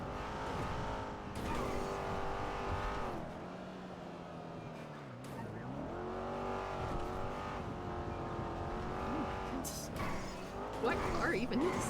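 A Buffalo car in a video game drives steadily with a continuous engine drone, with revving swells and occasional tire noise, while people talk over it throughout.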